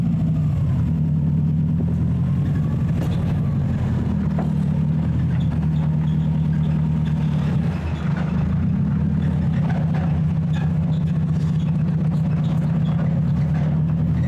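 A classic VW Beetle converted to all-wheel drive runs on its first drive after sitting parked, giving a steady, close, low engine drone with a rough, throbbing rumble that holds throughout, with no talking.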